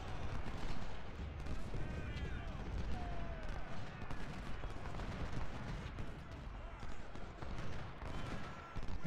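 Massed musket and cannon fire from a Civil War battle at Chickamauga in the strategy game Ultimate General: Civil War, a dense, continuous rattle of volleys and booms filling the whole stretch with no pauses.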